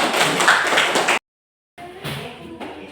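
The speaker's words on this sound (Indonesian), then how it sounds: "tepuk tangan dulu" A classroom of students claps hands, a dense burst of clapping that cuts off abruptly, then after a short silence a softer round of claps mixed with voices.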